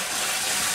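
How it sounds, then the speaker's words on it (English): Dirty water gushing over the deck of a sailing boat during washing, a steady loud rushing splash filling the short moment, no talk. "Washing the boat with dirty water."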